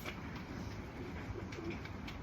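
Homing pigeons coo softly in their loft, low murmuring calls faint and intermittent against a steady background hiss.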